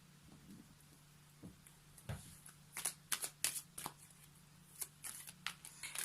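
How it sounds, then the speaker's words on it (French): A deck of oracle cards is shuffled by hand in a quiet room, with a few soft riffles first and then a run of crisp, close flicking bursts that come in irregular clusters. "je vais prendre une carte de ce très joli oracle que j'ai depuis quelques jours"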